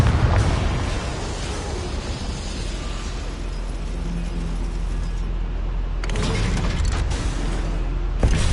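A Confringo fire spell explodes in a goblin mine in Hogwarts Legacy, a loud broadband blast that rumbles on steadily for several seconds, with a second sharp burst of debris and crackle near the end, no talk.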